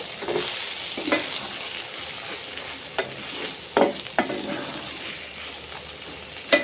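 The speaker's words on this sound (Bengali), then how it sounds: "আর দিয়ে দিচ্ছি আমি বিট লবণ, দিয়ে আমি ভালো করে নেড়ে মিশিয়ে নিচ্ছি" Eggplant pickle is stirred and mixed with black salt in a pan, a soft oily sizzle under repeated scraping strokes of a spoon, close and without speech.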